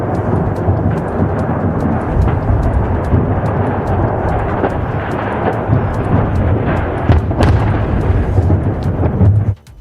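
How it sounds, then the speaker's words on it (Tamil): A loud, sustained roaring blast from a rocket engine exploding during a test in Scotland, with rumbling, crackling bursts throughout, cutting off abruptly at the end. "ராக்கெட் என்ஜின் வெடித்து சிதறிய காட்சி இது."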